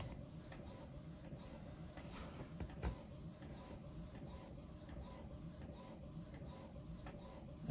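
A sublimation printer runs steadily at close range, giving a continuous mechanical whir with faint repeating carriage passes, in a workshop that also holds a heat press. No one speaks.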